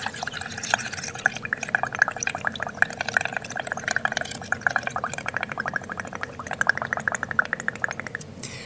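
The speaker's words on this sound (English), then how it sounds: "take your straw and blow bubbles in your solution" Air blown through a straw into bubble solution makes a continuous rapid bubbling and gurgling, close and moderately loud, with dense popping ripples throughout.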